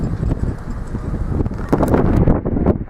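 Gusty wind buffets the microphone with heavy low rumbling, rising and falling in strength throughout, at Burnham-on-Sea, England.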